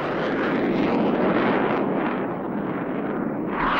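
A Vickers Valiant V bomber jet roars in a continuous, loud, broadband rush of engine noise that swells slightly toward the end, with no voices.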